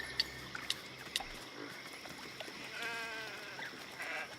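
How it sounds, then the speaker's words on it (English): Sheep bleating in the fantasy role-playing game Baldur's Gate, quiet wavering calls against a soft ambient background with a few faint clicks, and no talking. "And we have these two sheep."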